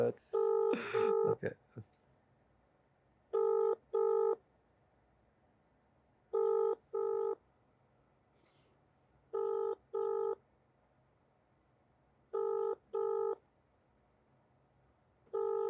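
A phone ringback tone repeats in pairs of beeps at regular intervals, unanswered, after a brief burst of noise at the start.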